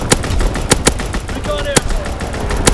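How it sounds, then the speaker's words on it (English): Rapid bursts of aircraft gunfire rake the ground in a World War II shooter game, loud sharp cracks repeating in an uneven stutter over a continuous battle din. "Strafing the target."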